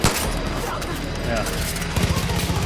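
Rapid gunfire from a special weapon in Far Cry New Dawn, a dense burst of shots that swells into sharper repeated cracks toward the end, with someone talking over it.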